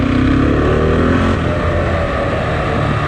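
KTM Duke 690 single-cylinder motorcycle engine revving into its upper range, a loud, steady close-up drone with rising harmonics and no speech.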